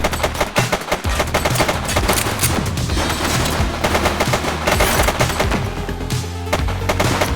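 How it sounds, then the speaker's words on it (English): Dense, rapid automatic gunfire from the police video game The Precinct rattles continuously and loudly, with overlapping bursts throughout and no pauses. "Shots fired!"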